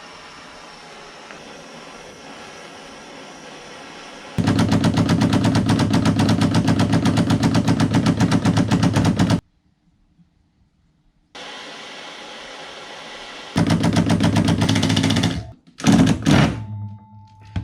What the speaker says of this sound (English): Impact driver wasn't working at all, so it was just clutching out, just burning out.